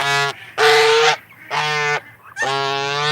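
Canada and swan goose hybrid giving three loud, harsh honks in a row, close by, separated by short pauses with nothing else heard.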